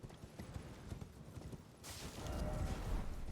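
Horse hooves in Elden Ring clop along in a quick, faint galloping rhythm, followed by a louder rushing burst of game sound.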